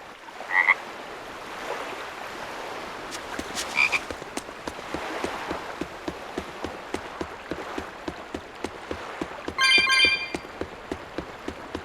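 Frogs croaking in a frog race in the video game Tales of Berseria, a rapid rhythmic series of clicky croaks running steadily throughout, punctuated by a few louder bursts and chimes, with no talking.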